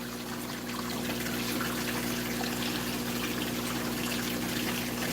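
Cold water runs steadily with a constant hissing rush and a low steady hum underneath, close and even from start to finish with no talking.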